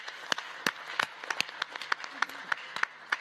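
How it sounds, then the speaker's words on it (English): Audience applause at the closing session of an Arabian horse racing conference. A few people clap in a loose, uneven rhythm, faint and thin, with no talking. "give yourselves the biggest round of applause"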